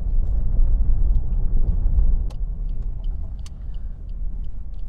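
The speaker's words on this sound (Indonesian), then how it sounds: "ini kita barusan lewat jalan yang paving ya. Itu untuk suara bagian kolong ini masih cukup terdengar masuk." Low, steady road rumble inside a 2017 Suzuki Ignis GX AMT driving over paving, with underbody noise coming through into the cabin, a continuous loud drone and a few faint ticks, with no talk.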